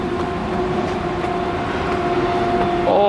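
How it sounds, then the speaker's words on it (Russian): A Trans-Canada passenger train rolls past, heard as a steady, loud rumble with sustained tonal hum and a brief higher squeal near the end, continuous throughout with no talking. "Это Trans-Canada Train, да, или получается поезд, который идет через всю Канаду."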